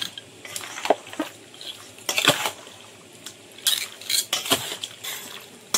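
Chicken is hand-mixed with pepper powder and mustard oil in a metal bowl, giving irregular clinks, scrapes and wet squelches. The sounds come close in uneven bursts with short pauses between them.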